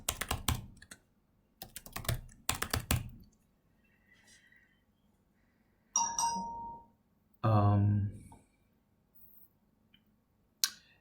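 Password typed on a computer keyboard: a few quick bursts of key clicks early on, then quiet, followed by a couple of louder isolated clicks or thumps, recorded close and alone.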